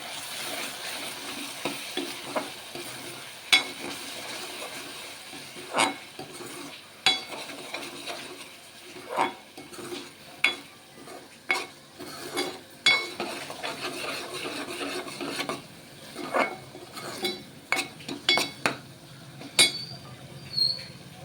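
A spoon scrapes and clinks around a pan as curry masala with coriander powder and salt is stirred for a mushroom curry, in irregular bursts over a faint sizzle, with no talking.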